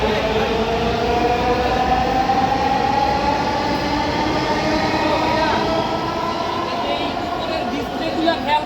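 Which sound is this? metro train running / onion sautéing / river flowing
metro train running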